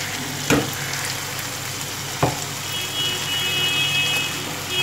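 Tomato puree hisses as it hits fried onion, cashew and green chili paste in a pan, a steady loud sizzle like rain with two brief knocks of a utensil.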